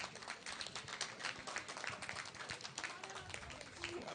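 Faint, distant applause from a large crowd at an awards ceremony, dense scattered clapping in a big hall with a low murmur of voices underneath.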